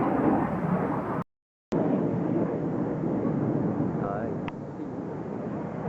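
Patrouille de France jet aircraft flying past, a broad roaring rush that fills the air, heard from the ground and broken briefly by a dropout, with speech mixed in.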